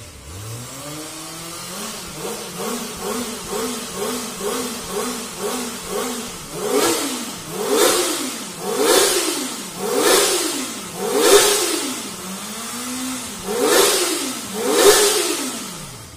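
A Kawasaki ZX-25R four-cylinder sport motorcycle is revved repeatedly up close, its high-pitched engine climbing and falling in a steady series of about ten throttle blips, alone without talking.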